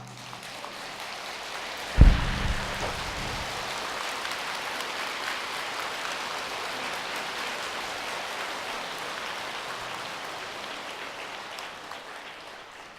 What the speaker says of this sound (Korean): 정말 손을 들고 박수를 쳐신